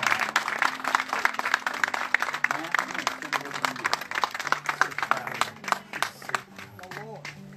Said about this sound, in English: Let's give them another good round of applause.